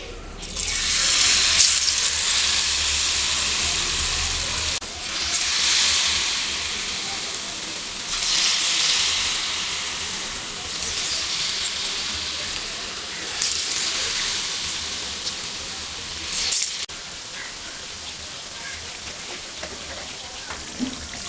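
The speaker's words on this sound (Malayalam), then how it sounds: "ഇനി ഇത് ഈ എണ്ണയിലേക്ക് ഇടാം" Batter-coated banana slices for pazham pori fry in hot oil, a steady broadband sizzle and hiss running throughout with gentle swells and small pops, close and fairly loud, with no talking.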